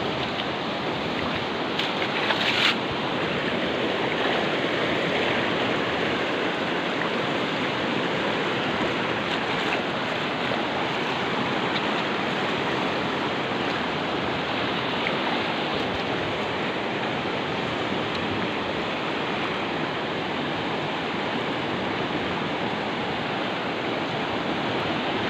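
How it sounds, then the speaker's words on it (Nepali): Floodwaters of the Jhimruk river rush past in a steady, loud, unbroken roar of churning water, close and continuous throughout with no voices. "खोलो चाहिँ एकदमै एकदमै भयानक डेन्जर अवस्थामा आएको छ"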